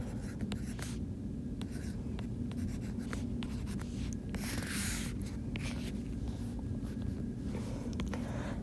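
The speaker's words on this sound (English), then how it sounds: "So I'm going to write out my polynomials" A pen moves steadily across paper while polynomials are written out for long division, with a continuous close scratching and brief pauses between strokes over a low background hum.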